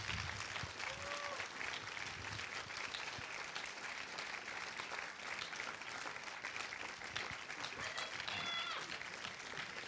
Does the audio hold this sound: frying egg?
no